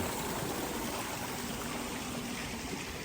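Steady rushing water gushes continuously into a pond, a broad even wash of splashing flow close by with no voices.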